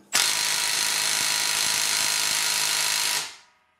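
A Milwaukee cordless impact wrench runs on mode 3 in a steady, loud, buzzing hammering burst for about three seconds, then spins down and stops. No one speaks over it.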